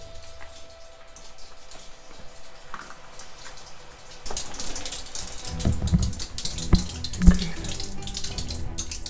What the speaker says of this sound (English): There's so much water seeping in through here.